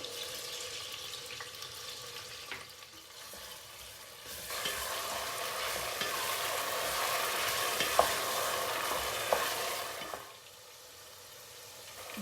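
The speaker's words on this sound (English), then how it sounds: "now I'm going to heat up the oil. Saute the onion," Onion and garlic sauté in hot oil for a mutton and white radish stew, a steady soft sizzle with stirring scrapes that swells midway and eases off, no voices.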